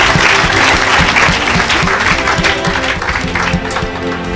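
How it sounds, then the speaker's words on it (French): Church congregation applauding and cheering for Jesus, steady loud clapping from a crowd filling the room for several seconds. "Acclame pour Jésus"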